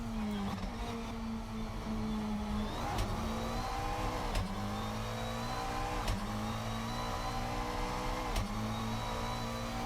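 Race car engine from a GT3 sim racing game at Donington Park GP, a steady droning tone with repeated revs and gear-change dips, continuous and fairly loud.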